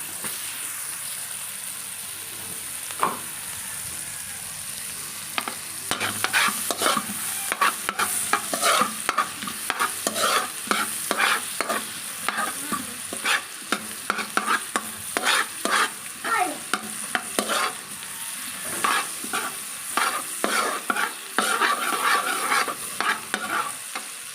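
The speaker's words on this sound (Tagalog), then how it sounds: "Pwede na ako magsimulang maggisa. Una kong igigisa ay onion." Onion and garlic sautéing in butter in a frying pan, a continuous sizzle broken by frequent clicking stirs of a utensil, close and fairly loud, with no voices.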